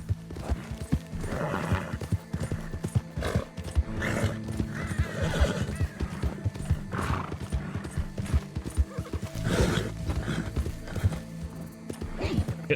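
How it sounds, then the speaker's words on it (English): A horse gallops through swampy terrain in Red Dead Redemption 2, with rapid rhythmic hoofbeats and occasional whinnies and snorts running throughout, close and prominent over a murmur of game ambience. "Come on, horsey, we can do it! We're going into the swamps,"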